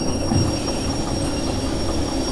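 Train in the Derail Valley game rolling steadily on rails with a continuous loud rumble and faint wheel squeal, no talk.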